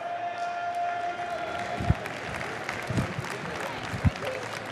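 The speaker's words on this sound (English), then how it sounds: "Give him a big round of applause, because he's one of the people who made this game, Mr. Matt Marcoux." An esports crowd at a League of Legends grand final at CeBIT 2011 applauds in a continuous wash of clapping and cheering, with a few louder thumps and a voice faintly over it.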